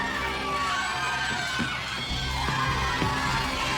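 A crowd cheering at a boxing fight between Gabriel Santisima and Zhong Liu: a steady, dense roar of voices with shouts rising through it, loud and continuous throughout.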